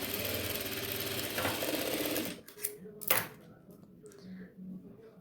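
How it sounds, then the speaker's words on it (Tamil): Sewing machine running in a steady whirring burst for about two seconds while stitching the edge of a nighty neck yoke, then stopping, followed by quieter handling sounds and light clicks. "இப்போ ஓரப்பகுதியை முழுவதுமே நம்ம ஸ்டிச் பண்ணி எடுத்துடலாம்."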